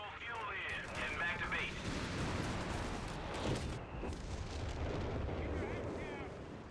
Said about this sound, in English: Creeping barrage here.